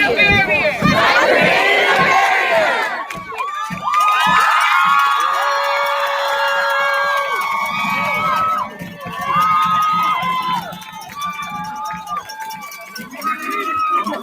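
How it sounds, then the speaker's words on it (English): A large crowd of young protesters cheers, whoops and shouts loudly and continuously, with overlapping voices close by. "Seriously, look at them cheering."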